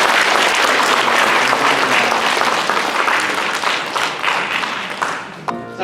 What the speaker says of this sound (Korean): 다시 한번 격려의 박수 우리 주시겠습니다.